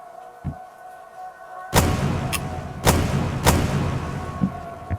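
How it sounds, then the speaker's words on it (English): Video game gunfire at an enemy, several heavy booming shots with echoing tails over a low background hum, one soft thud just before them. "Fire at this enemy, kill him, clear it away."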